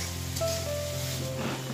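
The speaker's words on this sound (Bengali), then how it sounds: "তো ভেন্ডি ভেজে নিচ্ছি" Okra (bhindi) frying in a pan gives a continuous, even sizzle at moderate volume, with a faint tonal hum running underneath.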